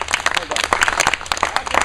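Audience clapping for Congressman Graves at a Pickens County GOP tomato sandwich party, a brief burst of scattered hand claps from a small crowd, close and moderately loud, with voices talking over it.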